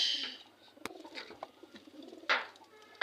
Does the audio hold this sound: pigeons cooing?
yes